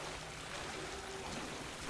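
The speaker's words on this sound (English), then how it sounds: "everywhere you can walk, there is a waterfall" A waterfall in the Tomb Raider video game roars as a steady, even wash of broadband noise, continuous and moderately quiet with no breaks.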